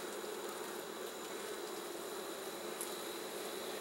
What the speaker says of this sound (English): Nice number of bees though.